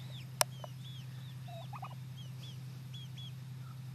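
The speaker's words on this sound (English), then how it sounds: "we decided to check on Mama Turkey and her two chickens" A turkey hen with two chickens and a baby turkey in a yard: soft chirps and short clucking calls repeat faintly over a low steady hum, with one sharp click early on.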